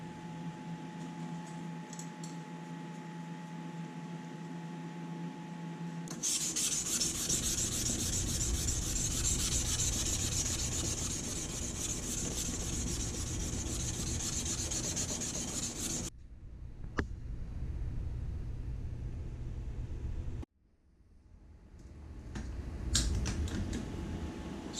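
Steady dry rasping of abrasive paper rubbed by hand along a Gyudo kitchen knife blade, continuous and close with brief pauses and a short gap near the end.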